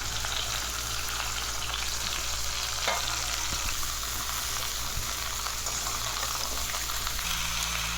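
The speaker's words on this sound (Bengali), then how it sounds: "গাজর, লাল আলু, আলু, মূলো, বেগুন সব দিয়ে দিলাম।" Carrots, red potatoes, potatoes, radish and eggplant frying in a pan for Bengali shukto, a loud continuous sizzle held steady throughout, close up, with occasional stirring and no talking.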